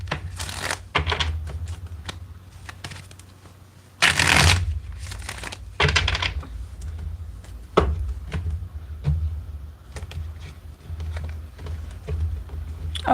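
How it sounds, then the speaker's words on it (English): A tarot card deck is shuffled repeatedly, giving bursts of riffling and slapping card noise with short pauses between, close and fairly loud, with no talking. "Let's get two more shuffles out of this deck."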